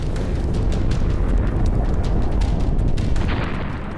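An Oreshnik hypersonic intermediate-range ballistic missile explodes over Dnipro, Ukraine, as a loud, continuous roaring rumble that holds steady for about four seconds and tails off slightly at the end, with no talking.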